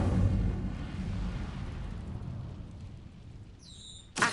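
An Incendio fire spell cast in the Hogwarts Legacy video game on PS5, a low rumbling whoosh of flame that fades slowly, followed by a brief sharp high chime at the end.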